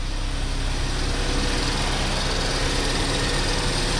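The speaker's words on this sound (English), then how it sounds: "The only noise you're able to hear are the injectors." A 2017 Kia Sorento engine idles smoothly after installation, a steady, loud, even drone with a fine rapid ticking from the fuel injectors layered through it, close by and continuous, with no talking.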